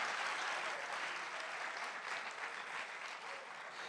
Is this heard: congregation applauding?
yes